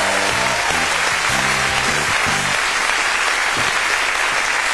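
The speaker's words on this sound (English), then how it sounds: "that's a big round of applause for the boss." A crowd applauds loudly and continuously, dense clapping filling the whole stretch.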